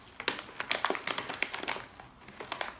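The plastic wrapper of a Lock Stars collectible toy package crinkles and crackles close up as it is pulled open from the sides, in quick irregular bursts.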